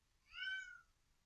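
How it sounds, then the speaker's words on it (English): A single drawn-out meow from a house cat, faint and somewhat distant, against a quiet room with no talking. "You can probably hear my cat meowing."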